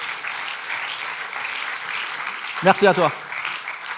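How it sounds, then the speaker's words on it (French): Applause from a conference audience for a mentalist's talk, a soft steady patter of clapping throughout with someone briefly speaking over it midway. "Ouais, vous pouvez l'applaudir."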